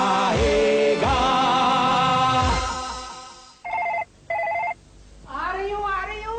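A telephone rings in two short electronic bursts near the end, following earlier tonal sounds, in a Hindi comedy sketch scene.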